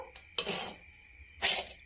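A spatula scrapes and tosses fried rice with vegetables and fried rice spice in a wok, giving two quick metallic scraping strokes about a second apart, close up with no talking.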